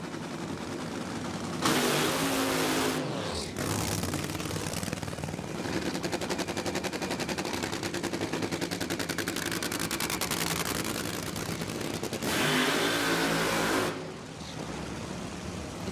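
A nitro funny car making a drag racing pass at Bradenton Motorsports Park, a violent, crackling engine roar with rapid rattling pulses, loud and sustained for many seconds, with brief surges in intensity.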